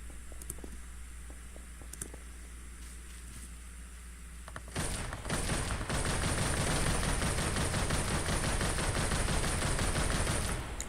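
Video game gunfire on a well-made map: after a quieter stretch with a few isolated clicks and shots, sustained rapid automatic fire erupts midway and continues loudly to the end, with no talking.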